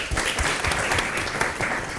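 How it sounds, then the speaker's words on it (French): A television show audience applauds loudly and steadily, a dense wash of many hands clapping together with faint voices mixed in. "On applaudit très très fort."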